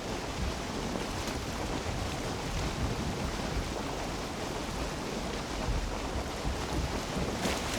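A Karve sailing ship in Valheim pushes through open water, with continuous loud wind rush and washing waves filling the whole span, no talking.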